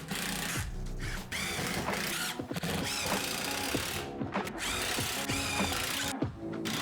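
A power drill drives screws into wall-mounted tool organizer panels, whining loudly and continuously with pitch shifts as the motor speeds up and slows, broken by a few short pauses.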